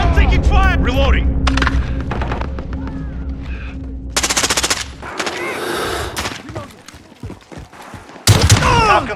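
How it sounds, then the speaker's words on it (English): Rapid automatic gunfire in Call of Duty Modern Warfare team deathmatch, loud sustained bursts of machine-gun fire with heavy booms between them, while voices shout over the shooting. "I'm taking fire!"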